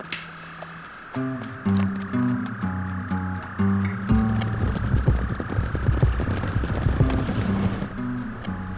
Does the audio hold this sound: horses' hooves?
yes